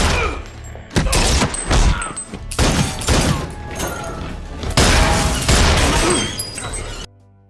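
Loud gunfire and explosive booms from a film shootout, a dense fusillade of shots and heavy thuds running continuously for about seven seconds before cutting off abruptly.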